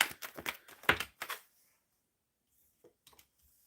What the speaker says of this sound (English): Shuffling for Carla.